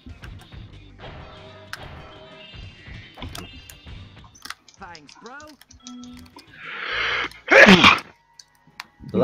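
A single sharp sneeze bursts out near the end, loud and close, following stretches of people talking and scattered keyboard typing during a Spyro speedrun competition.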